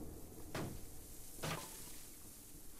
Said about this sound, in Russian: И ломаем эту дверь.